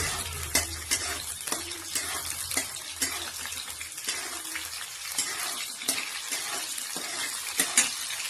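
Green chillies sizzle in hot oil as they are sautéed in a pan for a spicy safflower-greens dish, a steady close crackle with scattered stirring clicks and scrapes throughout.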